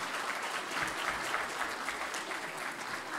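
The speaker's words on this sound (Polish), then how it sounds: "brawa dla pani Sabiny" Applause from an audience at a Polish commemorative event, a steady, even wash of many hands clapping at moderate distance with no break in the sound.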